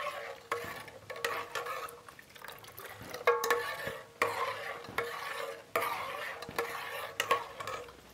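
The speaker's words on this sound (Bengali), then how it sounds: "আস্তে আস্তে করে দুধটাকে নাড়াবো" Milk being stirred with a spoon in a pot as vinegar is added to curdle it, giving a soft swishing and occasional light scraping in uneven strokes, close and fairly quiet.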